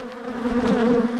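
Honeybees buzz steadily at an open hive during an inspection, a close, continuous drone that swells slightly in loudness, with no voices over it.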